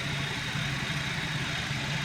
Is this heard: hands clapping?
no